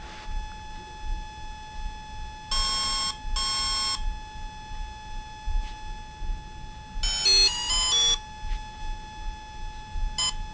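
Programming beeps from a Volcano ESC on an Exceed RC Proton: two short bursts of tonal beeping early, then a longer cluster of beeps later and one final brief chirp, clear and close over a steady background hum.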